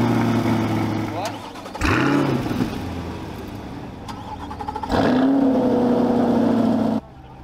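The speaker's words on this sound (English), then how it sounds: "the coolest sound I've ever heard is sequentially starting Corvettes all the way down the track" Chevrolet Corvette C8 sports cars firing up one after another along a race track at a racing school, with loud engine starts and revving bursts, while people talk nearby.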